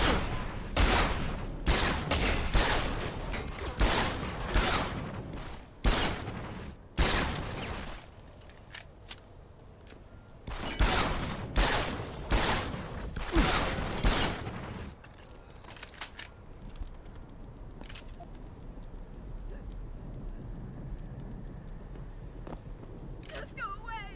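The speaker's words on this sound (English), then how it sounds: "Fucking gunshot!" Video game gunfire in a city setting rattles out in loud, rapid bursts of overlapping shots, pausing between volleys and fading into quieter ambience in the second half, with a player shouting over it.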